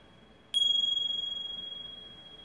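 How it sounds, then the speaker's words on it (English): A single bell or chime is struck once and rings on with a clear, sustained tone that slowly fades, close and alone against quiet room hiss. "these bells, right?"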